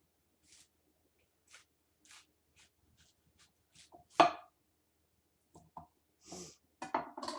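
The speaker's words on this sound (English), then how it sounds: "So I can still cut these into inch slices, but they might start to fall apart a little bit." Knife slicing cauliflower into inch-thick slices on a cutting board, heard as sparse, close, soft cuts and taps spread out with pauses, a sharper crunch in the middle and a quick cluster of cuts near the end.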